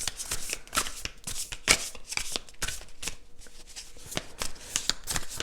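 Tarot cards being shuffled and cut by hand, a rapid series of crisp riffling bursts and soft slaps repeating steadily at close range with no voices.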